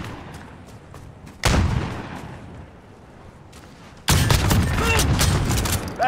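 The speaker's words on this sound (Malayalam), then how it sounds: "വെടി വെച്ച് പൊളിച്ച" Gunfire in a Call of Duty Modern Warfare multiplayer match comes in two loud bursts of sustained shooting, one around the middle and a longer one near the end, separated by quieter game ambience.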